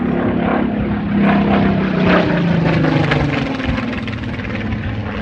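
A Spitfire in dark blue-grey photoreconnaissance blue flies past at the Midlands Air Festival, its propeller engine roaring loud and steady as it swells and slowly fades.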